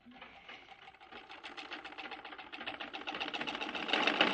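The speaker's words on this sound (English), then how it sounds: "it's my sewing, treadle singer sewing machine" Treadle Singer sewing machine running, a quick rhythmic ticking and whirring of the needle mechanism that starts faint and steadily speeds up and grows louder over a few seconds, heard alone without talk.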